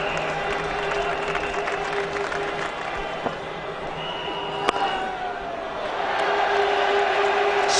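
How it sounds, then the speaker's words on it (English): Spectators at a 2007 England versus India one-day international cricket match cheer as Panesar fields the ball. Steady crowd noise swells toward the end, with commentary talking over it. "who always gets a big cheer whenever he gets to the ball"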